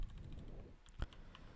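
Keys tapped on a computer keyboard while entering a React Native terminal command, a quick run of light clicks with one sharper keystroke near the end, close and clear with no talking.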